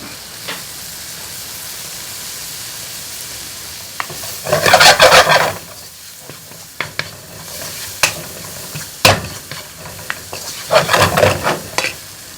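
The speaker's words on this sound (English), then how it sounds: "I'm going to let that simmer for a minute" Aubergine, tomato and spring onion bhajee in a pan, a continuous gentle sizzle broken by bursts of loud spoon scraping and stirring, with sharp clacks against the pan.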